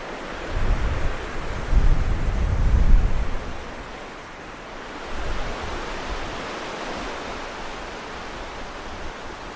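Strong gusty wind sweeps over a lake in Nova Scotia, Canada, roaring loudly in surges that buffet the microphone, easing for a moment, then rising again.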